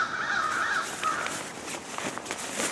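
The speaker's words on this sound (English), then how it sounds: "And the loudest crows ever" Crows caw loudly outdoors, a run of harsh, repeated calls near the start followed by further scattered caws against a steady background hiss.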